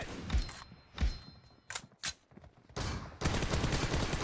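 Bursts of gunfire from a multiplayer video game shooter: several loud shots and thuds in the first half, then a sustained rapid fusillade of automatic fire near the end.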